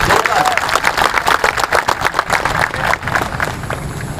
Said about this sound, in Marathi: दादांसाठी जोरदार टाळ्या होते